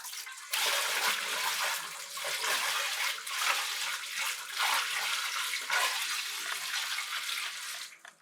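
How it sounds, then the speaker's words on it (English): Juice poured slowly into a winemaking bucket that holds sediment and yeast, a loud, continuous splashing gush lasting several seconds. "we're gonna grab our juice and we're gonna slowly"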